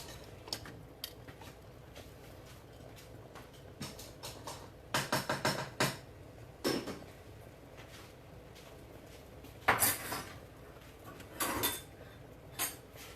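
A pot of jasmine rice and dishes being moved in a home kitchen during cooking, with scattered clinks and clatters of cookware and utensils, faint between sharper knocks and jangles.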